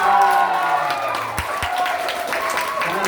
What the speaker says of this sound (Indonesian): tepuk tangan kepada Ustaz Yazid